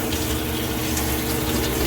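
A high-pressure five-mode RV shower head sprays water in a steady, close, even rush, without any pause or talk.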